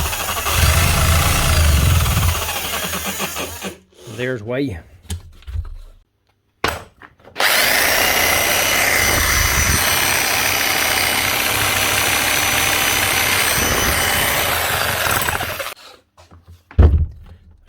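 Chinese-made demolition hammer running but not hammering, a loud rough engine-like rattle with heavy vibration that shakes a desk, cutting out briefly in the middle before roaring steadily again; a voice speaks briefly.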